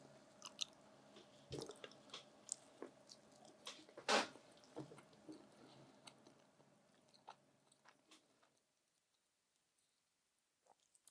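SuperFresh toast pizza is chewed close up with crunchy bites and moist mouth sounds, the loudest bite about a third of the way through, then quieter chewing fading almost to silence near the end.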